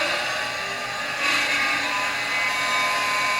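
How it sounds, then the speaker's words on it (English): A CD spins at high speed in a plastic drive tray, giving a continuous high-pitched mechanical whine that grows a little louder partway through and holds steady, with no voices. "To imitate a computer drive, Adam and Jamie set up a high-speed run with a CD mounted in its plastic tray."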